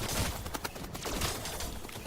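Shotgun blasts in the co-op survival roguelite game Steel Swarm, a dense, continuous barrage of overlapping gunfire and explosions with no clear gaps between shots.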